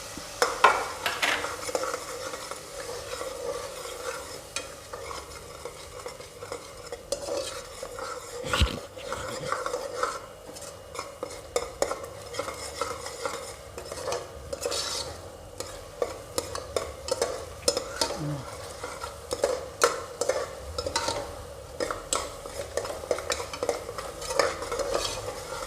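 Ginger and garlic fry for mushroom biryani in a pressure cooker while a spoon stirs and scrapes the pan. A steady sizzle runs under repeated metallic scraping for the whole stretch, with no talking.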